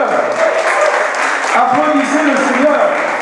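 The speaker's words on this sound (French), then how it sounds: "Applaudissez le Seigneur." Church congregation applauding at an evangelical service, loud, close and continuous, with voices and cheering mixed into the clapping.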